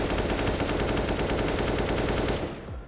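Sustained automatic rifle spray fire in CS:GO during recoil-control practice, a rapid loud burst of shots lasting over two seconds before cutting off, with no talk.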